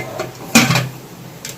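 A pot holding soaked, washed peas is set down on the stove to boil. It makes a single clear metallic clunk, close by in a quiet kitchen, then a few faint clinks trail after it.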